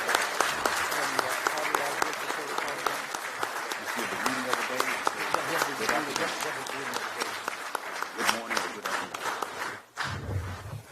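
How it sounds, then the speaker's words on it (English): An audience at a Prince Hall Slavery Remembrance Day program applauds Congressman Al Green, with sustained dense clapping that fades briefly near the end before a short burst resumes. "Please give him a rousing round of applause as he comes to the microphone to talk to us"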